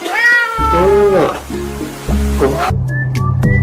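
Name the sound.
cats meowing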